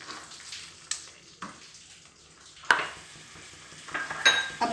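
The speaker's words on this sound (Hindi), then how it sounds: "थोड़ी सी पानी और मुझे इसमें डालनी पड़ेगी।" Water is poured into paneer butter masala gravy in a pan, bringing soft sizzling and bubbling, with a few sharp clinks of a spoon stirring against the pan.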